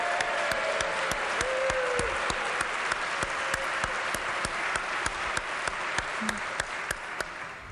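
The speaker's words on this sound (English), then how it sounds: "Would you please give her a round of applause?" Sustained applause fills a West Virginia legislature chamber, steady and dense with sharp individual claps, and a faint tone sounds briefly partway through.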